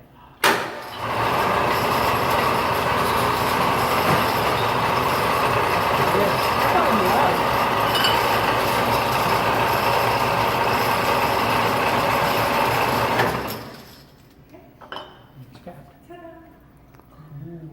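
Soda bottling machine running, its pistons coming down to cap bottles: a loud, continuous mechanical roar that starts abruptly, holds steady for about twelve seconds, then stops, followed by quieter rattles and clicks.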